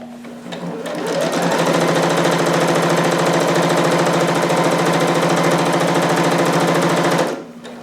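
A sewing machine runs a fast, continuous stitching burst on a harem jumpsuit seam, loud and close, starting up after a moment and stopping abruptly near the end.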